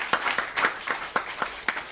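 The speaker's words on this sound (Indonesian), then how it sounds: "tepuk tangan buat kemuliaan nama Tuhan." A church congregation claps in a loose, uneven rhythm, around a dozen distinct claps over two seconds, moderately quiet and without talk.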